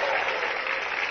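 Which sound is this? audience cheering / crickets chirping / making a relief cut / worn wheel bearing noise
audience cheering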